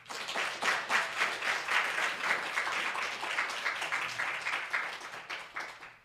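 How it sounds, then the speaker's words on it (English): An audience applauds a 41st California Assembly District candidate with steady, dense clapping that holds at an even level for about six seconds. "A round of applause for 41st California Assembly District candidate, the Honorable Jed Leano."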